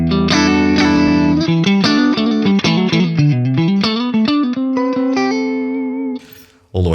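Loud, distorted electric guitar riffs with bright, cutting treble come through a Laney Lionheart Loudpedal with its global EQ turned all the way up, ending on a ringing chord that fades out.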